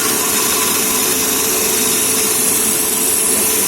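A DC shunt motor runs under an applied load during a load test, a loud, continuous whirring hum that stays steady throughout with no talk.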